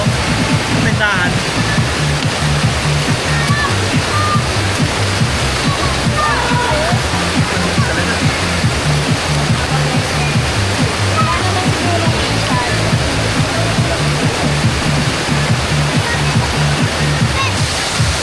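Taytay Falls in Majayjay, Laguna roars steadily as a close, loud waterfall, a dense unbroken rush of falling water filling the whole scene with voices talking over it.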